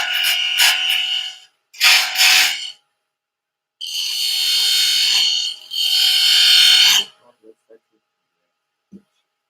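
A turning tool cuts a segmented wood bowl on a lathe, making loud, harsh scraping rasps in several bursts, two short ones and then two long sustained cuts, followed by a few faint knocks and near silence.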